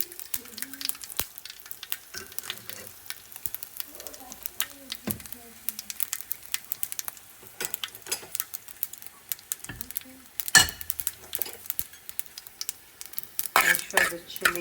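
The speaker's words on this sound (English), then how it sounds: "for the spluttering, I'm going to add in my chilies." Chilies spluttering in hot oil in a home kitchen, with steady close frying crackle and sharp pops and bursts breaking through, while a person talks over it.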